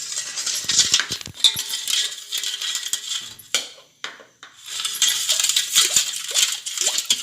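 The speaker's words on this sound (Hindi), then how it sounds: "अब मैं चिक में ये दूध डालूंगी और इसमें शक्कर डालूंगी और हिलाऊंगी।" A metal spoon stirs milk and sugar into cheek for cheek ki balli, a Konkani pudding, clinking and scraping against the bowl in quick, rapid rattling strokes, close up, with a short pause before the stirring resumes.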